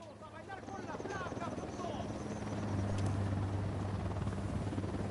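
Video game helicopter rotor drone grows louder and nearer, a steady low beating roar with radio-style voices talking over it.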